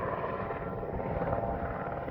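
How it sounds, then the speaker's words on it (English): A helicopter landing nearby in a small town, its steady rotor and engine rumble filling the scene at moderate loudness with no talk. "Looks like a helicopter's landing here."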